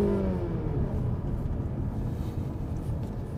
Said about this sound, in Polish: I jadę, wciskam pedał gazu, nie dzieje się nic.